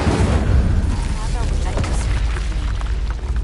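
Explosion spells go off in a Harry Potter video game, with dense roaring blasts and rumbling booms that run together continuously, loud and close, while a voice calls out over them.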